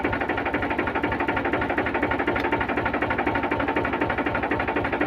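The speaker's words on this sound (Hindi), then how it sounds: "और बिल्कुल ट्रैक्टर आइडल आरपीएम में है" A Powertrac tractor engine ticks over at idle while its hydraulic lift lowers, giving a steady, rapid mechanical throb that stays even and fairly close throughout.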